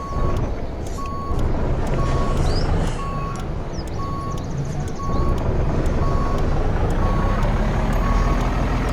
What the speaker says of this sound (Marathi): वळून घेऊन रिवर्सला मित्रांनो आता गाडी आपण